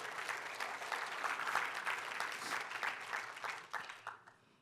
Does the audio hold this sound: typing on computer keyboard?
no